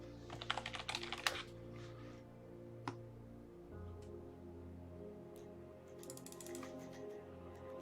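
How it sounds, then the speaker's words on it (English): Computer keyboard typing, a quick flurry of close, crisp keystrokes at the start, then scattered single taps and a short final burst over a low background hum. "I'm just going to type it in."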